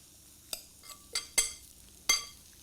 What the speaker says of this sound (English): Give it a good stir together,